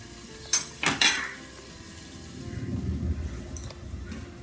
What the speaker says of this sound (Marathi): मी आता झाकण उघडून बघते